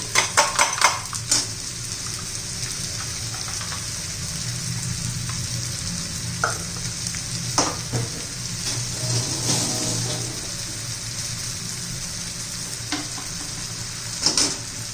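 Chopped cluster beans with peanuts, coconut, green chillies and garlic sautéing in hot oil in a pan, a steady close sizzle broken by scraping stirs and a few sharp utensil clinks against the pan.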